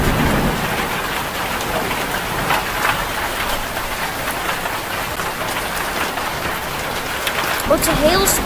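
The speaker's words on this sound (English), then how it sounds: "Oh, it's a hailstorm." A hailstorm during a storm chase: dense, steady pelting of ice and rain on surfaces, loud and continuous throughout, with a few sharper clatters near the end.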